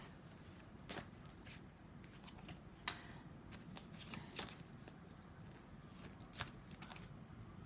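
Tarot cards shuffled by hand, soft steady riffling with a few sharper snaps of cards, quiet and close.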